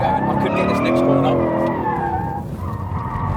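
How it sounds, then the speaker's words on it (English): Car tyres squealing in a long continuous skid while drifting through a corner, loud and close over a straining engine, the screech wavering as the slide is held. "Okay, I'm going to keep the slide going."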